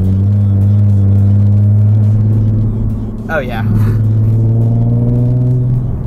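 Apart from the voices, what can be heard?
Nissan 370Z sports car engine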